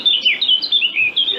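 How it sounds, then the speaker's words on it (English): Blackcap singing a rich, fluty warbling phrase, close and clear, with quick rising and falling notes running continuously for about a second and a half. "Right, so next one's Black Cap."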